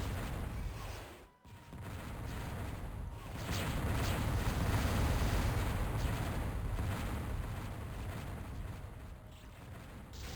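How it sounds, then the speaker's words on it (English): Artillery fire in a video game tournament match forms a dense, continuous rumbling barrage of booms. It is loud and sustained, dropping out briefly near the start before resuming with no voices. "Too much artillery from Cyrus."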